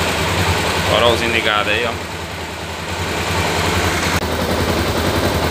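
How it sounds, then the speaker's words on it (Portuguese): A motorcycle engine idles steadily and fairly loudly with a constant low rumble, while someone speaks over it near the start. "marcha lenta gerando."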